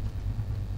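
A low, steady 7-litre V8 Hemi car engine rumble idles close by in the racing game Test Drive Unlimited 2, a deep throbbing drone with no voices.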